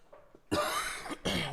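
A loud, close cough bursts out abruptly, followed after a brief pause by a second harsh cough, both raspy and forceful, with a faint murmur before them.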